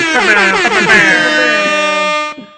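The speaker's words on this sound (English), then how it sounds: "Air horns for you." A loud, blaring air horn blast sustains for about two seconds with a wavering pitch, then cuts off abruptly.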